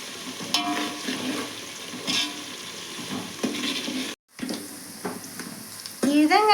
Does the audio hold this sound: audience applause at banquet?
no